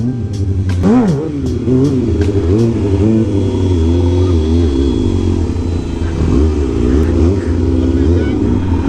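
A motorcycle engine revs continuously and loudly during a wheelie on a street lined with garbage trucks, its pitch rising and falling with throttle, with wind noise and a voice talking over it.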